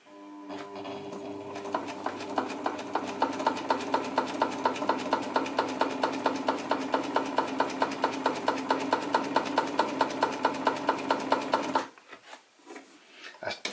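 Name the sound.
PFAFF 92 sewing machine stitching fast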